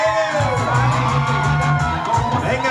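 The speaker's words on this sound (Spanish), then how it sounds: "Recuerda que esta noche solamente la gente soltera grita" A party crowd of single guests shouts and whoops together in a loud, sustained burst of cheering, with a rhythmic drum band underneath.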